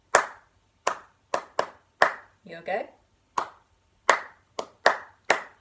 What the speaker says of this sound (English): Let's clap and play them.